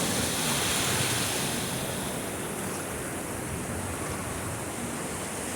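Ocean waves wash steadily onto a relaxing beach, a continuous broad close-up surf roar with some wind noise on the microphone.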